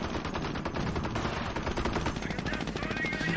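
Machine gun fire in a competitive multiplayer shooter match, a dense continuous rattle of rapid bursts mixed with other battlefield gunfire and ambient noise, without a break from start to finish.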